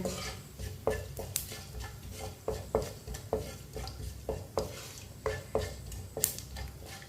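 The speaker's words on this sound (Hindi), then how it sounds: "आधी चमची साबुत ज़ीरा, आधी चमची साबुत धनिया, थोड़ा सा ना रोस्ट होने देते हैं" Whole cumin and coriander seeds are stirred in a hot pan for roasting, with a spoon scraping and tapping the pan in a steady rhythm of about two strokes per second over a faint sizzle.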